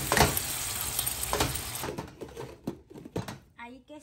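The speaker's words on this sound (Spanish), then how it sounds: "vamos a dejar que se sofría un poquito la carne" Beef seasoned with salt and black pepper sizzling in a pot, a steady frying hiss that fades as the lid goes on, with a few clinks and a person talking over it.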